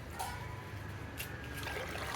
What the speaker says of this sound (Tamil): அது மாதிரி 4 மடங்கு தண்ணியை